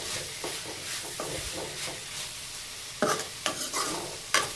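Amaranth leaves (thotakura) fry in a pan, a steady close sizzle with repeated scraping stirs of a spatula, louder strokes toward the end.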